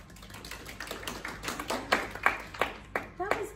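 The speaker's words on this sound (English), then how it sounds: "Give yourself a clap." Small audience at a UK hypnosis convention giving scattered, uneven claps after a demo, a handful of separate hands tapping at close range, with faint voices murmuring underneath.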